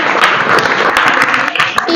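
Children clap together during a village primary-school quiz, a dense, steady patter of many small hands filling the whole moment, with some voices mixed in.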